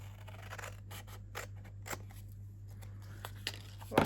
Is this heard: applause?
no